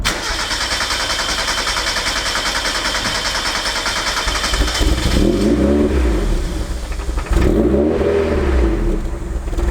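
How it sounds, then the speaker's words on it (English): A Mazda MX5 engine cranks, catches and idles, then revs up in two strong rising and falling surges, loud and close, running alone without talk. "I let it run for like a good 10 minutes and then just kept revving it up."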